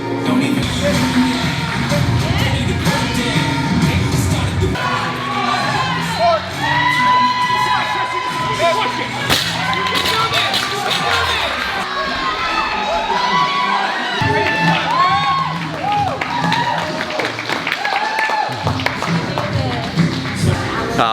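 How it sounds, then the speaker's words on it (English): A loud, dense crowd cheers and shouts continuously for a CrossFit Games athlete, with high-pitched whoops and scattered clapping rising and falling throughout at an indoor-arena intensity. "Everybody was super supportive and cheering for her"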